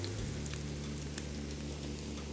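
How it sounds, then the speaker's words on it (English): Spices frying in hot peanut oil in a cast iron pan give off a steady, close sizzle and crackle with a low hum underneath, and no one speaks. "then we're going to put the spices over the fire and add the oil."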